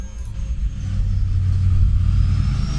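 An RC model F-22 Raptor jet throttles up in flight, a steady rumbling whoosh swelling gradually louder with a faint high whine above it, heard alone outdoors.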